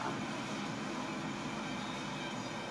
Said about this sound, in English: You see it, guys? That's the train.